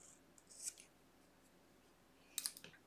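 Scissors snip the tail of crochet yarn in a quiet room, with a faint quick snip early on and a couple of small crisp clicks near the end.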